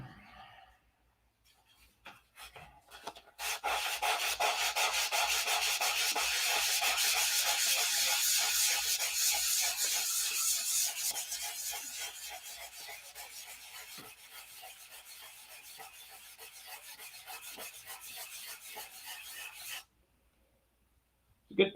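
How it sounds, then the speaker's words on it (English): Hand sanding a wooden P-47 model airplane over a sheet: a steady, close rasping rub that fades gradually, with quiet gaps before and after. "Good thing I'm sanding over this sheet here."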